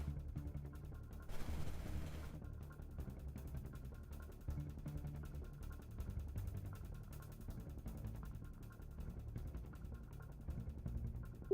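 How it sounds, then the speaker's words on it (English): A flashbang grenade goes off in Halo Reach, a brief broadband burst near the start followed by a steady low rumble of game sounds. "Ah, flashbang."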